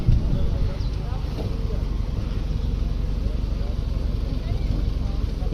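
A tractor engine drones steadily as it pulls along a road, a constant low rumble beneath continuous conversation from the people riding.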